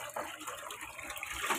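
Tap water running steadily from an open faucet, a continuous close hiss and splash with no talk, during laundry washing with Downy fabric softener in Tondo, Manila.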